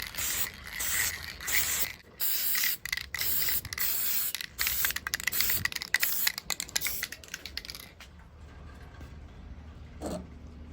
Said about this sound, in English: now I'm going to spray it with black spray paint